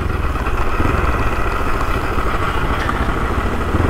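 A Crossfire motorcycle engine runs close and loud with a steady, even mechanical drone and faint clatter, unbroken throughout with no talking.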